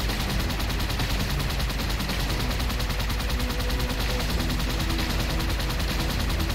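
Rapid gunfire from the shooter video game Halo 2 Anniversary on PC, a dense continuous burst of automatic shots filling the whole stretch at steady loudness with no talk over it.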